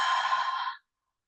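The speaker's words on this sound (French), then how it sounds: "Une grande expiration par la bouche." One long, steady exhale through the mouth during a hatha yoga breathing exercise, a smooth breathy rush lasting under a second before cutting off into silence.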